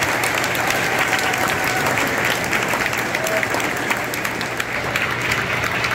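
Sustained applause from a school audience at a middle school advanced orchestra spring concert, a dense, steady wash of many hands clapping at even loudness throughout.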